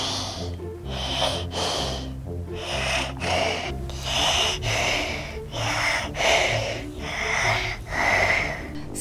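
Deep breathing during a pretend doctor's stethoscope check in a children's Barbie play scene, with close, rhythmic, wheezy inhales and exhales repeating about every second, loud and alone.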